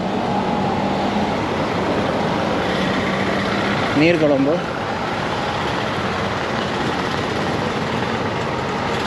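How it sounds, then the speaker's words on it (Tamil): Busy road traffic in Negombo, Sri Lanka, along a street lined with clothing shops: a steady close roar of engines and passing vehicles, with a short warbling horn-like tone midway and someone talking throughout. "இந்த ரோடு கொஞ்சம் டிராஃபிக்கான ரோட்டாகவே இருக்கு."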